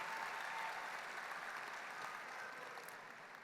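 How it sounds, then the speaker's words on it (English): A graduation crowd at the 2019 Winter Haven Senior High ceremony claps for honored staff, a fairly distant, even patter of many hands that tapers off slightly toward the end. "You may applaud the second row"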